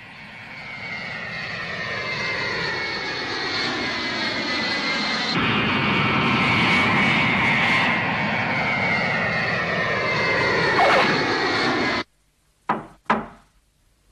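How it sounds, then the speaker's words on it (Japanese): A military jet aircraft coming in to land in an anime, a loud sustained roar that builds and sweeps, then cuts off abruptly, followed by a couple of sharp knocks. "ラウンデル、着陸許可を求めています"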